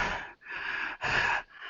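Heavy panting, three or four loud, rough breaths in quick succession, close and alone with short gaps between each.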